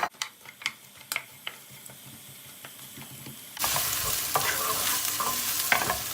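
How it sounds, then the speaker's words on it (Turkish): Onion, garlic and carrot sautéing in hot oil for a Turkish meatball dish, beginning with a few clinks and stirring taps, then a loud, steady sizzle and crackle that swells as the vegetables hit the pan, with no talk. "Havucuyla beraber bunu kavurmaya başlayacağız."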